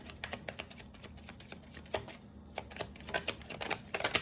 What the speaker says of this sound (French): je vais continuer à tirer 2 cartes.